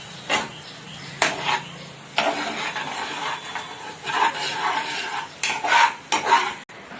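A spoon stirs onions in a metal pan for chicken gravy, with repeated bright scraping and clanking strokes over a soft sizzle, close and fairly loud, no talking.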